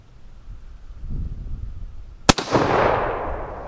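A single sharp, loud crack from a Mosin Nagant 91/30 rifle fired outdoors, followed by a quick echo and a long rolling decay, set against quiet outdoor ambience.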